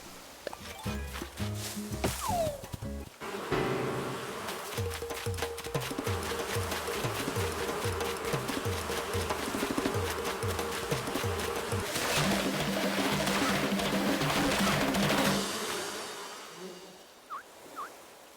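Wasps swarm and sting the player in Animal Crossing: New Horizons, a dense, loud burst of buzzing and frantic game sound with pulsing rhythm that runs steadily for about fifteen seconds, then cuts to near silence with a couple of faint blips.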